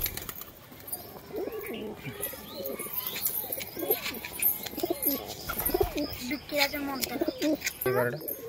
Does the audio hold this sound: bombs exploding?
no